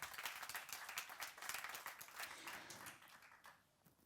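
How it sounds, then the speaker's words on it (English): Audience at a forum on mobility for creativity claps for a few seconds, a dense patter of many hands that thins and fades toward the end, faint and distant. "So, please another applause for Gábor Mondik."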